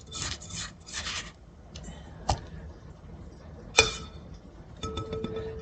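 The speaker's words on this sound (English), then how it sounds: "Scrape the sides." A spatula scrapes the sides of a mixing bowl of Sally Lunn muffin batter in a few short rasping strokes, with a couple of sharp knocks against the bowl in between.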